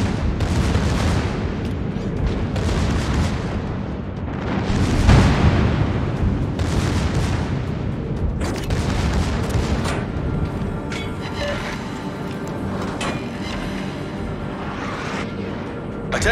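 The battleship Schlieffen fires its guns in a naval video game, a dense, continuous rumble of deep booming blasts rolling one into another, loud and close throughout.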